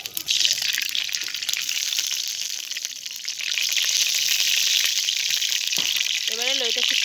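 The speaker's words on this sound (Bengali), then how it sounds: "কড়াইটা গরম হয়ে গেছে, এবার আমি সরিষার তেলটা দিয়ে দেব।" Mustard oil hisses in a hot wok in an outdoor village kitchen, a dense continuous sizzle that grows louder midway, with a brief tonal sound near the end.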